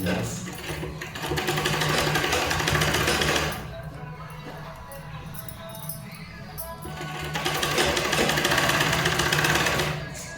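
An electric sewing machine stitches a sleeve onto a blouse, running in two loud, rapid mechanical bursts of needle clatter separated by a quieter pause in the middle.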